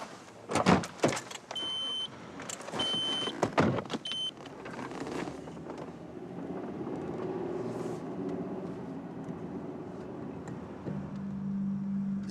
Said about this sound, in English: Is that Rachel's car